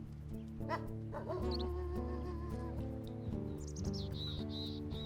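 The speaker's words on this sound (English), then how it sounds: "Here, let's bark at everybody." Wolf in a video game gives repeated short yips and whimpering barks over a steady game music bed, loud and close with a few high chirpy calls near the end.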